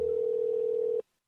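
A steady, loud telephone dial tone hums alone for about a second during a phone call being placed, then cuts off abruptly into silence before a brief sound returns.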